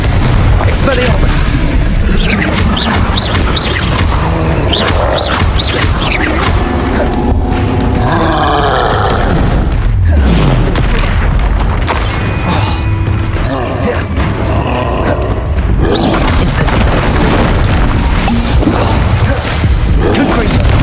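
Explosive Confringo spell blasts in the Hogwarts Legacy video game, booming bursts and crashes repeating amid dense layered game sound effects and music, loud throughout.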